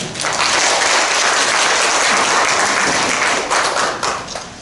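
A roomful of citizens gives warm applause to welcome the Hwaseong mayor at a community dialogue in Byeongjeom 1-dong; dense, steady clapping holds for several seconds before tapering slightly at the end.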